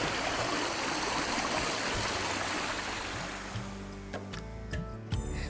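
Mountain spring water flows steadily along a path near the Keshavraj temple, a continuous close rush of running water that softens toward the end, with a few faint clinks and tones over it.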